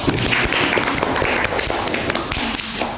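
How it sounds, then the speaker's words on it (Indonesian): A classroom group applauds a presenting team, a dense burst of many hands clapping loudly and continuously for about three seconds. "tepuk tangan dulu untuk kelompok 1"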